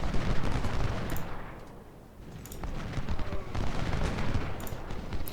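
Cannons in the Civil War battle game Ultimate General: Civil War boom in repeated heavy volleys, with rolling blasts and a dense, continuous roar of battlefield gunfire that dips briefly before surging again.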